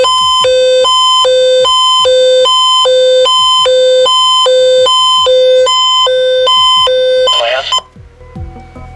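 First Alert WX167 weather radio running its siren test, a loud electronic two-tone alert alternating high and low steadily for over seven seconds before cutting off abruptly, followed by faint handling noise.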